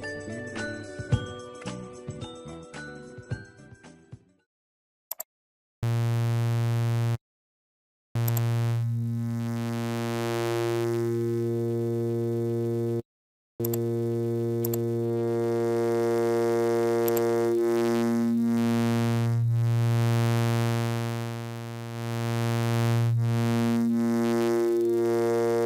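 A sustained synth tone in Massive with gritty, harmonically rich wave-shaper distortion that swells and shifts in timbre, preceded by a brief tinkling melodic passage.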